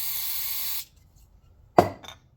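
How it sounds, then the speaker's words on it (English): Carburetor cleaner hisses from an aerosol can onto an engine valve in one close, steady spray that cuts off, followed by a single sharp clink a moment later. "I spray a little bit of carb on here"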